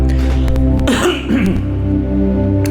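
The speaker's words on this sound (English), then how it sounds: "Oh, I just have to cough." A single cough with a throat-clearing rasp, close and brief, mid-clip over a steady humming background; no talk.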